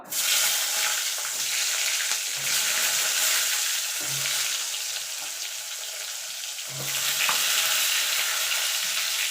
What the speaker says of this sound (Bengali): এই তেলে বেগুনগুলো ভেজে তুলে নেব